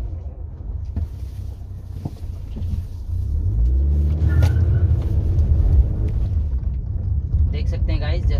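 Inside a moving Maruti Suzuki Swift, a steady low road rumble and wind noise fill the cabin, growing louder from about three seconds in as the car picks up speed.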